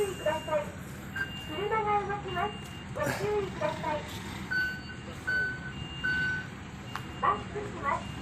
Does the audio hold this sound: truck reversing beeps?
yes